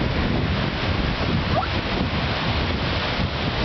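Sea waves wash onto Enoshima beach in Kanagawa in a steady, continuous surf. Wind buffets the microphone throughout, with no clear talking.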